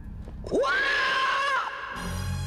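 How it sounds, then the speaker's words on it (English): A long wavering shriek rises sharply, holds a high quavering tone for about a second, then drops away, loud and close against a low background rumble, an eerie ghostly cry in a haunted castle. "Ghostly shrieks are heard"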